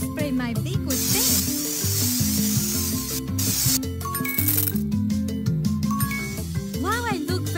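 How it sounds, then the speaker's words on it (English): A hissing spray burst for a couple of seconds in a kids' animal salon game, spraying pink onto a beak over busy, tinkling game music, with shorter sprays and chimes following. "Now spray my beak with pink"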